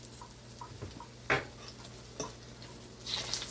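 Ripe banana fritters frying in oil in a cast iron pan, a soft steady sizzle with a few light ticks and a brief clatter of a utensil, quiet and close with no talking.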